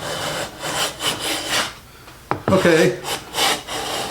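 A Stanley No 4 hand plane fitted with a 50 degree frog shaves quarter sawn sycamore in several rasping strokes, with one sharp, louder pass in the middle; a voice speaks briefly.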